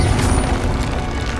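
A Confringo blasting spell goes off in the Hogwarts Legacy game, a dense, sustained roar of explosive crackle and low rumble that stays loud for its whole length with no gaps.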